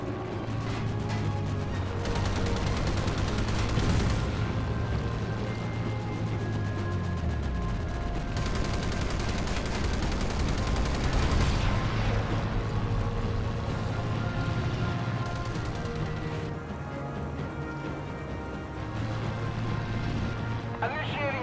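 Naval guns firing during a Guadalcanal sea battle in a World War II video game, dense continuous booms and gunfire rumbling under shouted voices and loud battle noise throughout.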